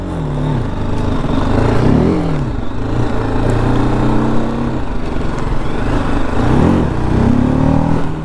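A TVS Apache RTR 310 motorcycle ridden on the road, engine loud and close with rising and falling revs as it accelerates and shifts, wind noise throughout.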